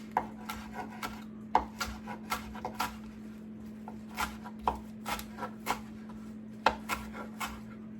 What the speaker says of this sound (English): I'm just going to, again, rough chop some basil up, and we're going to add it to our mix here